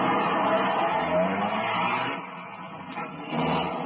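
Police cars pull out of a garage in a 1949 Dragnet radio drama, their engines revving and rolling off. The motor noise is fairly close, swells and dips, and fades toward the middle before rising again, with no talk.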